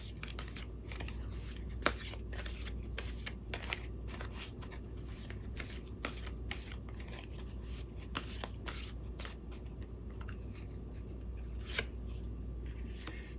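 Tarot cards are shuffled by hand: a steady run of soft, close riffling and flicking with small sharp clicks, quiet and alone with no talking.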